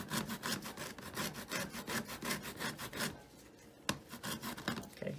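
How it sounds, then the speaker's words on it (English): A navel orange is zested against a grater in fast, rhythmic rasping strokes, close and steady, with a brief pause and one sharp knock before the scraping resumes. "So let's go ahead and get this orange zest out"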